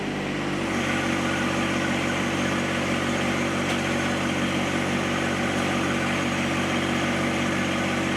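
Engine of a directional boring machine revving up while running underground cable and water lines to a shed, a loud sustained droning roar that climbs in the first second and then holds steady, no talking.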